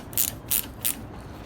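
Three quick clicking bursts from a ratchet loosening a bolt on a Toro self-propelled mower, close up and evenly spaced over a second and a half.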